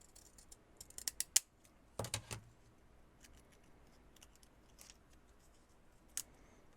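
Decal edge scissors trim a paper journal card, giving a few quiet, crisp snips in quick clusters with scattered faint clicks in between in a quiet room.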